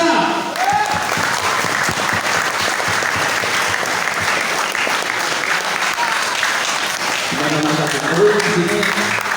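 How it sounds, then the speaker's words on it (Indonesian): An audience at an Islamic boarding school farewell night claps steadily and loudly for the organizing committee, with voices talking over the applause near the start and again toward the end. "Tepuk tangan untuk panitia."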